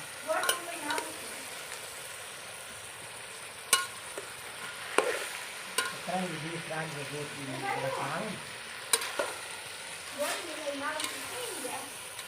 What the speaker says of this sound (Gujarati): આપણું ઊંધિયું તળાઈ રહ્યું છે